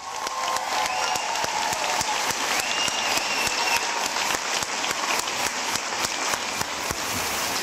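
An audience applauding at a middle school graduation, a steady dense roll of clapping from a large crowd held at an even level throughout.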